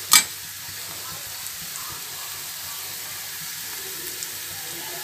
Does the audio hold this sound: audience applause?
no